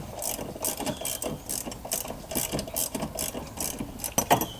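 A quarter-inch ratchet clicks in quick repeated bursts while loosening bolts on a Honda during a fuel filter replacement, the pawl chattering close and clear with short pauses between strokes and no talking.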